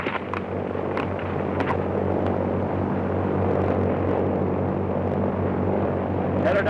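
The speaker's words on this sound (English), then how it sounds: "Airplane!" A cartoon airplane flies overhead with a steady, loud propeller-engine drone that holds throughout, and a few brief sound effects sit on top of it.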